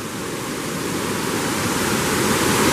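Steady, loud rush of a waterfall on the Glen Onoko Falls trail, a dense broadband roar that holds constant throughout with no voices.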